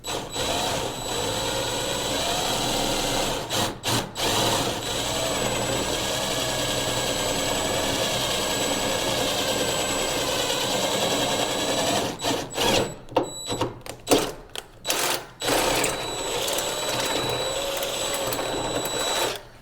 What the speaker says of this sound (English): if you really push into it, you can drill through this